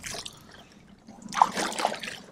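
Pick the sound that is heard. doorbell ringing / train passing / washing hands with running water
washing hands with running water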